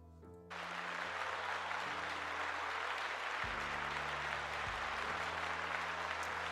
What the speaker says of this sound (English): Let's give them a round of applause. Where's my applause button?